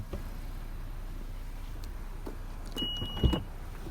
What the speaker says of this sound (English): Power lift gate.